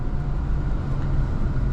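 A 2024 Infiniti Q50 Luxe with a 300-horsepower engine drives in sport mode, heard from inside the cabin as a steady low engine and road drone that stays even and continuous.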